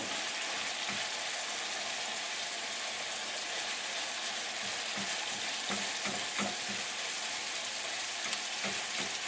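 Ground lamb sizzles loudly and steadily in a lightly oiled pan, with soft scraping and tapping as a utensil breaks up the meat throughout, no talking.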